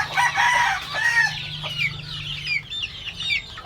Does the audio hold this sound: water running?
no